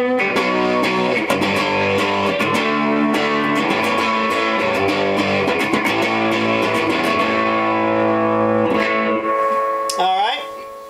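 Electric guitar, a custom Stratocaster-style, playing sustained chords with a clean tone and some sharp plucked attacks, loud and close, ending with a brief sliding note.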